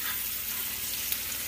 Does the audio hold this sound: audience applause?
no